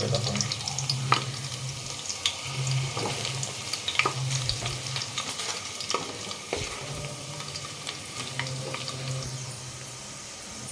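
Spices sizzling and crackling in hot oil for a crab curry tempering, a steady hiss with scattered pops and occasional stirring clinks, faint voices in the background.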